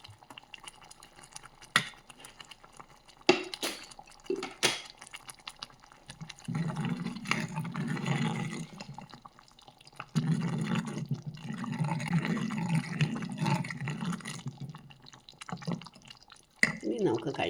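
Raw coconut oil poured into a curry with curry leaves after the stove is switched off: soft drips and liquid trickles with some stirring, partly under continuous talk.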